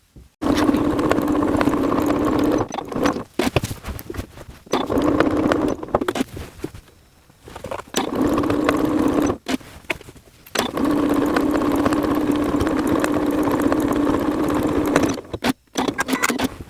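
A sewing machine stitches around the edge of a car seat cape, running in steady buzzing bursts of a few seconds each with short pauses between runs, close and clear with no talk.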